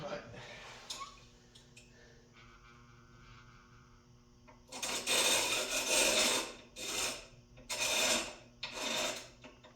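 Piston rings for a 496 engine build bound for a 1955 Chevy being filed by hand, heard as several loud, close, rasping strokes in bursts after a quieter stretch with faint tones and small clinks.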